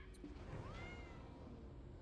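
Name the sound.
black cat meowing in the video game Black Desert Online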